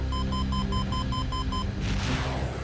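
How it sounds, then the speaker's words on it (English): Missile warning alarm inside a gunship cockpit: a loud, rapid series of evenly spaced electronic beeps for about a second and a half, over constant engine rumble, followed by a rushing burst of noise. "An alarm pierces his cockpit."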